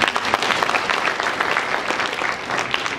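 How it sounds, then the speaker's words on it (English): Audience applause at a health ministry keynote address, a dense steady wash of many hands clapping for several seconds at close range with no talk over it. "Kindly give ourselves a hand of applause."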